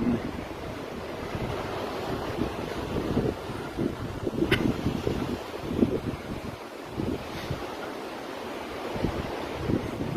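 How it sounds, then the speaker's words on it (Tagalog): Steady gusting mountain wind roars close to the microphone, with a rushing, surf-like wash and occasional buffeting thumps throughout. "Umahagit-git na hangin."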